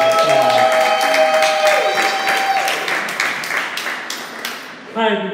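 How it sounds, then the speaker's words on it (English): Steady applause from a crowd fills the room, dense clapping throughout with some voices mixed in, tapering slightly toward the end. "Give her a round of applause."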